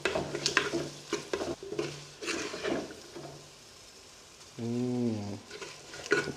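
Finely chopped ginger and garlic fry for a Jaffna-style biryani, a close sizzle with brisk scraping stirs of a spoon in the pot. A short musical tone sounds briefly partway through, and no one speaks.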